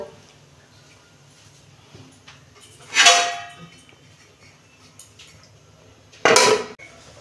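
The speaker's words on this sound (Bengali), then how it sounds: "এই যে ঢাকনা খুলছি, মাছগুলো দিয়ে দিচ্ছি" Metal lid on a cooking pot of vegetable and bata fish curry lifted and set down, two sharp clanking rattles a few seconds apart against a quiet kitchen background.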